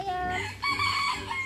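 A chicken clucks and crows up close in one brief, loud burst of harsh, rising calls.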